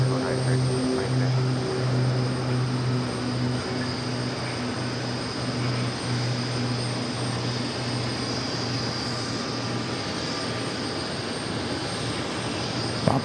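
American Airlines Boeing 777-300ER from Madrid at New York JFK airport, a loud steady jet engine roar holding throughout, with no voices.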